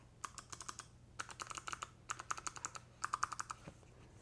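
Keys on an OpenAI keyboard clack in quick bursts of typing, several fast runs of crisp presses separated by short pauses, close and clear over a faint steady hum.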